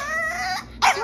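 A French bulldog whimpers close by, giving high, wavering whines followed by a sharper yip near the end.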